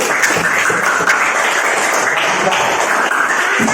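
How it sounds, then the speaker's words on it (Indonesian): Classroom students applauding a group after a correct answer during a teaching practice session, a dense, even clapping from many hands held at a steady loud level throughout. "Tepuk tangan buat kelompok 1."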